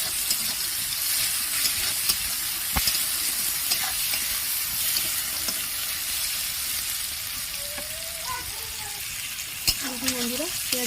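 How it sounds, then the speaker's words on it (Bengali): Onions fry in a pan with a continuous close sizzle and occasional stirring scrapes, plus a few faint tonal squeaks near the end. "পেঁয়াজগুলো একদম লাল লাল করে ভাজা হয়ে গেছে।"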